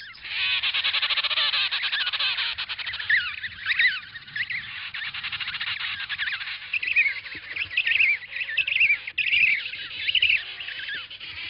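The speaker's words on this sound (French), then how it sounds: "les parents chantent devant les crèches jusqu'à ce que leurs poussins se manifestent" Emperor penguin parents calling to their chicks at a crèche, a dense chorus of loud, warbling trumpeting calls overlapping continuously, close and clear with no speech.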